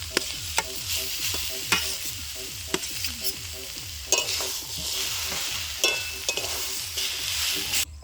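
Boiled potatoes being stirred into a sizzling vegetable chop filling in a pan, with repeated scraping strokes of the spatula over a steady fry and no one talking.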